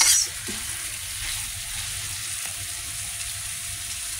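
Chicken wings fry with ginger in a pan, giving a steady, close hiss and crackle of sizzling oil with no one speaking.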